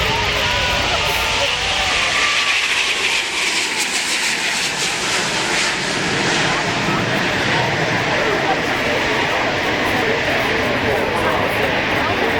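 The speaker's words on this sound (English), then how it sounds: "Airbus A380 is launched." An Airbus A380 jet airliner takes off at the Farnborough Airshow, a loud, continuous, rumbling jet roar filling the whole span, with crowd murmur faint beneath it.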